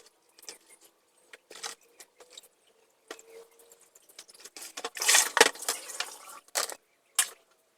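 Three kinds of mushrooms, wood ear, straw and white wood mushrooms, being washed by hand in water: scattered soft splashes and squishes, sparse at first, then a busier cluster of wet handling before tapering off, with no talk.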